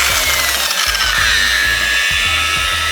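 A rotary polisher at 600 RPM priming its pad on a truck's painted surface, a loud, close, continuous motor drone with a low pulsing rhythm as the pad sweeps back and forth.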